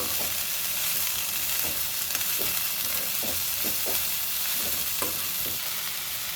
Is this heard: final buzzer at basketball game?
no